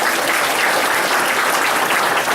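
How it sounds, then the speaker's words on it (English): Sustained, dense applause from an audience at a La Vernia ISD gathering, honoring the UIL coordinator; steady and full throughout with no talk over it. "So if we can give her a round of applause."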